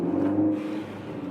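A Ford Focus ST fitted with a Borla catback exhaust gives a short, close engine rev, a brief rising swell that settles into a lower steady hum, with no talking.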